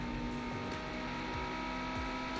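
A McLaren races in BeamNG.drive with a steady, droning engine note that climbs gradually in pitch as it accelerates, loud and close, with gear-shift dips along the way.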